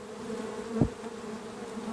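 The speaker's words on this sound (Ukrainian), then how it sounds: "Бджола йде вся без пилку." Honeybees buzz steadily at a hive, many of them returning without pollen. The hum is close and continuous, with one louder pass as a bee flies near the listener partway through.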